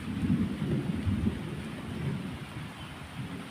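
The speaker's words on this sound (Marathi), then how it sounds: "बारीक आता बारीक पाऊस लागायला लागला आहे" Thunder rumbles low and deep through light rain in the Konkan countryside, a rolling, continuous growl with a soft patter of drizzle over it and no voices.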